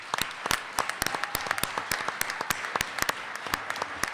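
A small group at an awards ceremony claps in a sparse, uneven patter, the individual claps sharp and distinct rather than merging into a roar.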